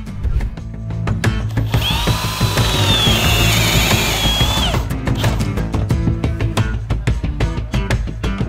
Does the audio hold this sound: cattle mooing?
no